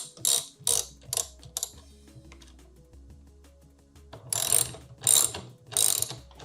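A ratchet wrench with a 13 mm socket tightening a bolt on 3D-printed plastic rudder pedals, sharp clicking bursts in quick strokes, pausing briefly in the middle before several louder ratcheting pulls.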